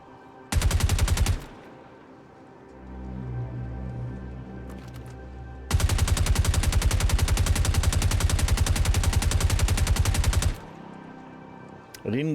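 Rapid automatic gunfire aimed at a Pisces ship in Star Citizen: a short burst, a lull with low engine hum, then a long sustained rattling burst of several seconds, loud and close.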